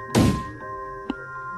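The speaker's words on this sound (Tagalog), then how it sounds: "Ang maleta kong nakatabi sa gilid ay nakatumba na sa sahig" A suitcase standing at the side of a room tips over onto the floor with a single loud, heavy thud, followed by quiet room tone and a faint later knock.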